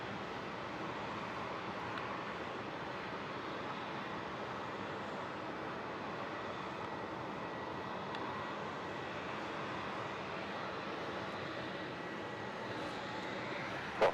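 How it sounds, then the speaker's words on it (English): A Qantas airliner rolls for takeoff on runway 27 at Melbourne Airport, heard as a steady, fairly distant jet-engine roar that holds evenly for about fourteen seconds with no talk. "Quantum 7354, runway 27, cleared to take off."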